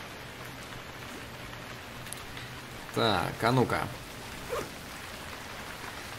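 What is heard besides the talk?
heavy rain pouring in video game Stranded Deep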